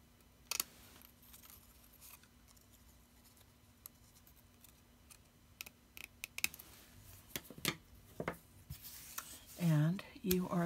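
Scissors snip paper into strips for a Z-fold crib card, a series of close, sharp, irregular cuts that grow busier toward the end, with brief papery rustles and some quiet vocal sounds.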